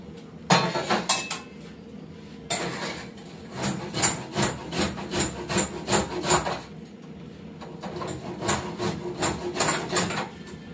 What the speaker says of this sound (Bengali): আদাটা গ্রেট করে নিই একটু